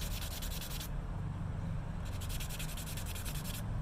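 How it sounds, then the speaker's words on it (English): Steady, close rasping of sandpaper worked back and forth along a wooden edge, with two bursts of brighter, rhythmic scraping separated by a softer stretch. "Sanded. I'm gonna try to work this edge down."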